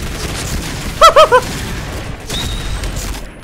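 A quick burst of three gunshots from a gun in the shooter game Point Blank rings out close and loud, followed by quieter game noise and faint clatter.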